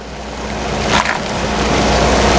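Water at a rolling boil in a pot on a stovetop over raised heat, ready for making foi thong golden egg threads from chicken eggs; a steady, dense bubbling hiss that builds slightly, with no voices.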